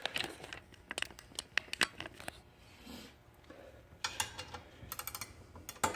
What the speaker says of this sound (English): Again, I like using the ratcheting hand wrench.